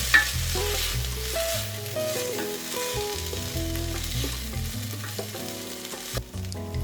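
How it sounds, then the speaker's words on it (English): Already boiled cannellini beans are stirred in a pot for a Greek seafood stew, with a soft sizzle and gentle stirring under background music. "in the pot goes the already boiled cannellini beans. Just stir and don't let them brown."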